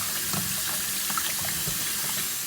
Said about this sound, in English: just wash that vinegar inside that oxtail